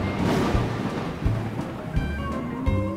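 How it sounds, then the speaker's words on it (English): Thunder rumbles from a big, dark cumulonimbus storm cloud, low booming rolls recurring every half second or so over a steady rain-like wash. "Sometimes these clouds also cause thunder and lightning."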